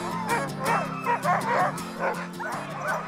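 A pack of sled dogs barks and yips excitedly in rapid, overlapping bursts, loud and close, with some whimpering between the barks.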